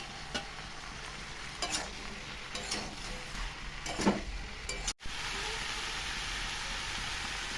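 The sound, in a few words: mushrooms added to pan with broccoli, sizzling and stirring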